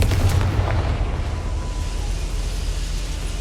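A Confringo fire spell exploding in Hogwarts Legacy, a loud burst at the start that decays into a dense, roaring rumble lasting a few seconds.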